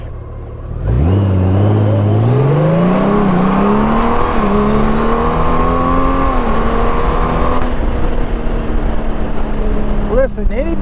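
2024 Honda Goldwing Tour DCT touring motorcycle accelerating hard, its loud, close engine note climbing steadily through several gear changes over about ten seconds before easing off.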